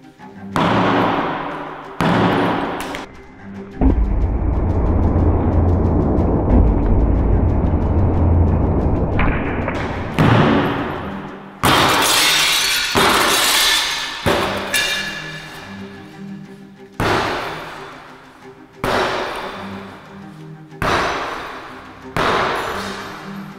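Burglar-resistant class 4 window with P6B glass under attack, with a long grinding or sawing stretch followed by a series of loud, close impacts repeating every second or two.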